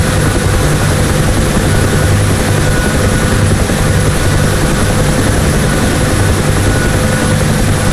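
A UH-1 Huey helicopter hovering in the DCS World flight simulator, its steady loud rotor thrum and turbine whine droning continuously without change, no voices.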